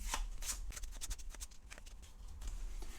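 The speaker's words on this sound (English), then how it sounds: "But what we will do now is we will shuffle these cards the AI had before." Playing cards for the Tussie Mussie card game are shuffled by hand at close range, making a quick run of crisp riffling flicks and slaps that repeat in a brisk rhythm.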